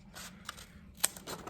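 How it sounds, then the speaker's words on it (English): Scissors snip through paper for a craft hat, a few quick, close crisp cuts in short bursts with one sharper snap, fairly soft overall. "So I'm gonna take my scissors,"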